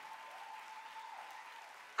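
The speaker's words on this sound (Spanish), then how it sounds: "Clap your hands real loud." A church congregation claps, a faint, distant patter of hands held fairly steady for about two seconds with no voices on top.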